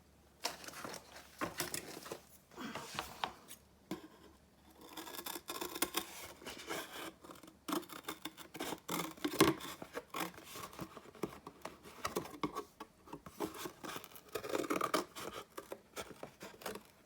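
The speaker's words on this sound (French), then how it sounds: "Là, je vais finir au ciseau." Scissors snip and scrape through paper for a black junk journal, with irregular close crisp cuts and rustling handling sounds throughout.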